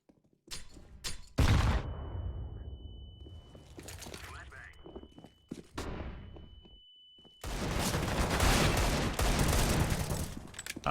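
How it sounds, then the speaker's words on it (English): Flashbang grenade bursts and gunfire during a Counter-Strike playtest on the de_inspection map, sharp loud blasts with a lingering high ringing tone, then a dense stretch of sustained shooting and action noise near the end. "Flashbang!"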